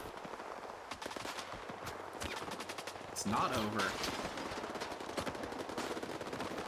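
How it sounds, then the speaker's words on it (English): Rapid bursts of video game automatic gunfire crackle continuously, with heavier shots midway, while someone speaks briefly over the din. "I still hear gunfire."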